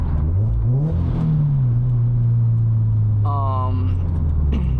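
A boosted Subaru BRZ accelerating on back roads: a loud engine note climbs and holds as it revs through a gear, with a brief whine-like shift near the end and a short burst of rumble.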